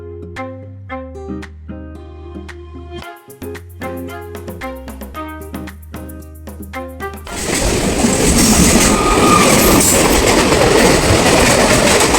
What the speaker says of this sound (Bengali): ফার্স্ট ট্রেনে উঠে গেছি আমি।